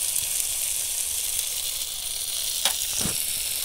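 Chopped onion and garlic paste fry in hot oil, giving a continuous bright sizzle with a couple of sharper crackles and spatula scrapes near the end.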